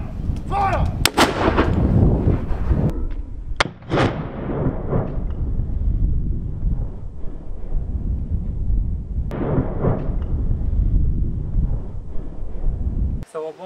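Heavy ceremonial cannon fire booms out in Valletta, with loud deep blasts rolling and echoing under gusty wind noise on the microphone, a couple of sharp reports standing out.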